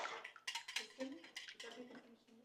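Dishes clank and clatter in the background of a home kitchen, a series of sharp, irregular knocks of plates and utensils heard under people talking.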